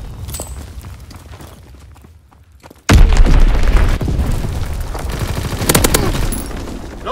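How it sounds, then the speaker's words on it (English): A bomb blast in a multiplayer military shooter on a docks map: after a quiet stretch, a sudden loud, close explosion hits and rolls into heavy rumbling with crackling gunfire-like bursts that continue to the end. "Enemy bomb incoming"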